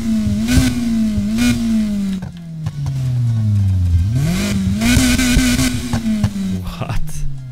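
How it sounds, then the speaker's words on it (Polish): A car exhaust revs hard in the racing video game Need for Speed Heat, the engine note climbing and dipping through several throttle blips, loud and close with a crackling edge. "Teraz mogę dostosować dźwięk samochodu,"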